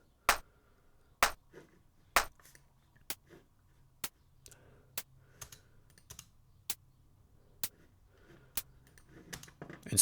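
A layered electronic drum clap with a white-noise synth layer, sharp dry hits repeating at a regular pace about once a second, each a short bright snap over near silence.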